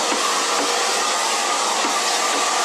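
A hair dryer blows continuously at close range while hair is blow-dried smooth with a flat paddle brush, a loud, even, unbroken roar with a slight whine and no voices.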